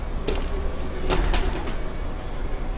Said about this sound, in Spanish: Ahí se ven las palomas.